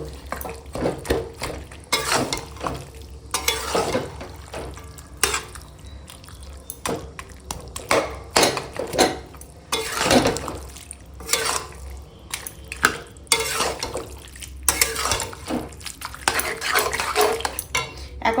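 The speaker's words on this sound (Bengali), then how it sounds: "এবার একটু মুড়োটা ঘেঁটে দেবো" A spoon clatters and scrapes in a pot of catla fish head curry with bottle gourd, irregular knocks and stirring strokes with some wet sloshing, close by, steady low hum underneath, no speech.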